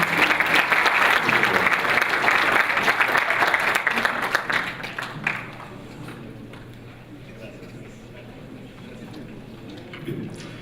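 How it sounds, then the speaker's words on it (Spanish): Loud audience applause for speakers at a conference fills the first half, then fades around five seconds into a quieter room with scattered claps and background murmur. "le damos un fuerte aplauso a nuestros ponentes"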